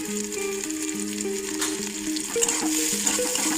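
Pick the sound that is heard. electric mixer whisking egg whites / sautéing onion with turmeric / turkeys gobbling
sautéing onion with turmeric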